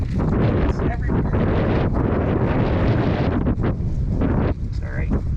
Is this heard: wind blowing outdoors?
yes